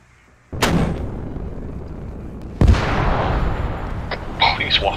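Rockets fire and explode in Alpha Core Starsim, a military simulation game: two heavy booms roughly two seconds apart, each trailing a long rumbling decay, followed by smaller crackling pops near the end.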